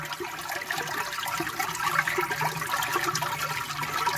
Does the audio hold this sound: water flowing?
yes